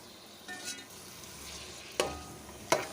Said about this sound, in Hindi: इसको हम 3 से 4 मिनट लहसुन के साथ अच्छी तरह फ्राई कर लेंगे।